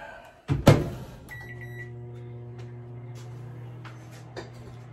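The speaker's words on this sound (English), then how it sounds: "Pop it in the microwave for another" A door thuds shut, then a steady low hum of a microwave oven runs continuously, with a faint click near the end.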